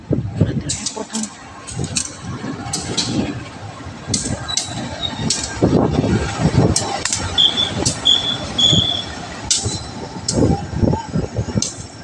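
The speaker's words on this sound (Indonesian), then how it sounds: "lokomotif CC203-9804 lansiran di stasiun Manggarai" A CC203 locomotive shunting at Manggarai station, with loud rolling rumble, clanking wheel beats and high metallic squeals close by as people chatter over it.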